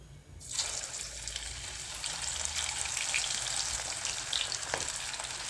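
Chicken pakoda pieces dropped into hot oil and deep frying, a loud bright hiss bursting in after a brief quiet start and then holding as a dense, steady bubbling sizzle.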